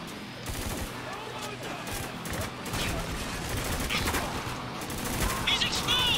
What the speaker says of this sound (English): we're taking some heavy fire here!